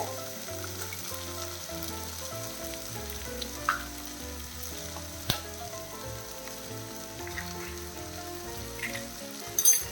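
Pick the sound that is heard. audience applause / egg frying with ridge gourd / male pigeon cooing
egg frying with ridge gourd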